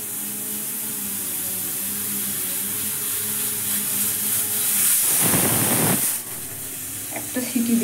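A pressure cooker of soaked lentils on a gas stove lets out one loud, broad steam whistle lasting about a second, which rises over a steady kitchen hiss and then cuts off.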